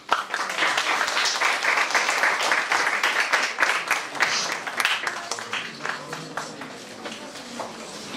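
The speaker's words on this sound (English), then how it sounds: "I would like to request all of you to join me in honoring them with applause." Audience applause at a Model United Nations conference honoring officials, sustained crowd clapping at a fairly loud, steady level that tapers slightly toward the end, with no speech on top.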